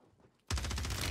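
Rapid burst of HRM 9 submachine gun fire in Warzone 3 on Rebirth Island, loud and close, erupting suddenly after near silence and continuing as a steady stream of shots.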